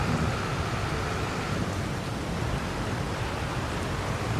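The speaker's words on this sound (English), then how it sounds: "Shame that it started raining so soon." Constant hiss of steady rain in Farming Simulator 22, dense and even with no breaks, filling the whole stretch without any voices.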